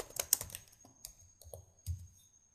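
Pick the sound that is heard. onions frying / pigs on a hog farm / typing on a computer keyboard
typing on a computer keyboard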